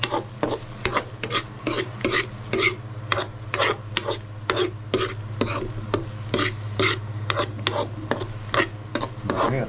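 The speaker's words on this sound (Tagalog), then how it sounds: "Yan, haluin natin." A utensil stirs pork brain in a pan, making steady, rhythmic scraping strokes close by, with a faint sizzle and a low hum underneath.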